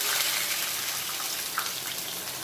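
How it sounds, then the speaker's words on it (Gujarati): A cup of water pours into a pan for a semolina and raw potato snack, giving a steady close splashing gush with no pause. "હવે એમાં આપણે પાણી એડ કરીશું। તો મેં આ 1 કપ પાણી લીધું।"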